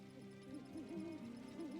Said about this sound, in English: This outfit has the ability to call the birds.